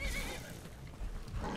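Horse neighing in Skyrim Dawnguard, a single brief whinny over a steady game soundscape, fairly faint throughout.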